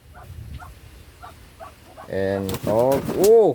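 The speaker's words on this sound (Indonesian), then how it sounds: "Ada entog." Muscovy ducks on a village homestead in West Java give soft, repeated breathy calls, then louder harmonic honking cries follow close by; a voice seems mixed in near the end.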